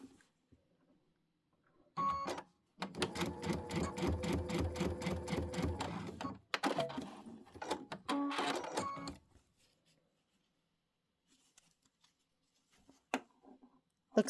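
A sewing machine stitches quilt fabric in two bursts of rapid, rhythmic mechanical clatter, separated by a brief pause, with quiet handling noises after.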